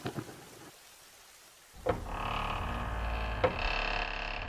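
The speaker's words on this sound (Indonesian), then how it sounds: "Hujan lebat turun dan meliputi bumi." Heavy rain starts with an abrupt sharp crack and becomes a dense, steady hiss. A second loud crack cuts through partway, like thunder over the downpour, after a short quiet stretch.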